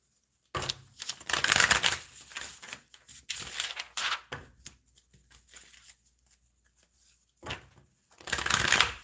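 Tarot cards shuffled for a reading, a run of papery riffles and soft flutters with short pauses between bursts, fairly close and moderately loud, no talking.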